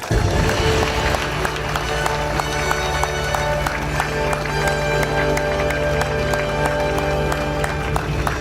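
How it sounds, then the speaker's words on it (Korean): A large crowd at a Korean party founding convention claps for the two newly elected co-chairs, with steady, rhythmic unison clapping that runs loud and continuous throughout. "격려의 큰 박수를 보내주시기 바랍니다"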